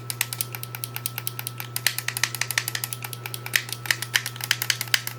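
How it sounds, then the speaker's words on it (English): An Xbox Series controller trigger is pressed repeatedly, clicking against its plastic housing in a quick, irregular, close stream of sharp ticks over a steady low hum. "it makes more of a clicky sound."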